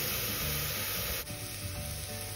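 Onions, green chilies, ginger, garlic and cumin seeds sauteing in hot oil, a steady, dense sizzle that holds constant with one brief dip partway through, with no talking.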